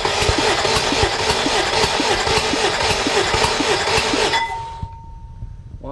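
A Honda K20A2 engine turning over during a compression test gives a loud, rhythmic, pulsing chug for about four seconds, then cuts out into near quiet with a faint lingering tone.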